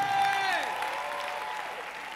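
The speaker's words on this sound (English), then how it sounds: "Y'all really tired of clapping" Church congregation clapping during a sermon, a soft, diffuse patter of applause under a sustained organ or keyboard tone that fades as the clapping continues at a distance.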